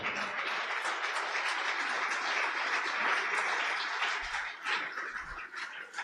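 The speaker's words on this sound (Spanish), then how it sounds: "¿cuántos van a dar aplauso al Señor?" A church congregation breaks into sustained applause, a thick, even roar of many hands clapping for several seconds, with a couple of low thumps near the end.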